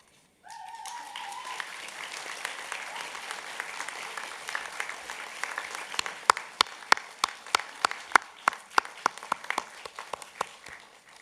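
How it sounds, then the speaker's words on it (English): Business school graduates at a university graduation ceremony break into broad, sustained applause for their family and friends, with a few louder, sharper individual claps standing out near the end. "give them too a rousing round of applause,"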